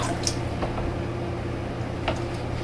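Wet squishing and soft dripping as Michell's Wool Fat shaving soap is worked into a lather, continuous and close, with a few brighter crackles.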